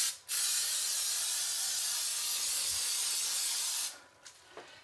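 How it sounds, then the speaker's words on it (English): Baker's Joy baking spray hisses from the can into a molded madeleine pan in one long, steady spray of about three and a half seconds, close and alone, followed by faint clinks. "I'm going to spray it down."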